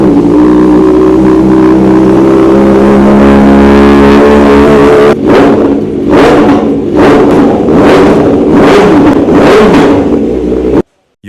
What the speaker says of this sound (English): This fully customized Kawasaki Ninja ZX-4R build